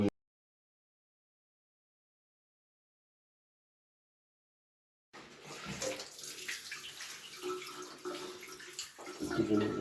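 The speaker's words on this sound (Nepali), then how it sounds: "यो माथिको पाइपमा पानी आइरहेको छ।" Water gushing through a pipe from the main supply line, a steady rushing, splashing flow that starts abruptly after several seconds of silence and continues at moderate volume.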